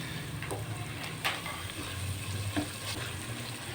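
Vegetables are stirred in a pot for vegetable biryani, soft sizzling under scattered scraping and clinking of a spoon, fairly quiet and close.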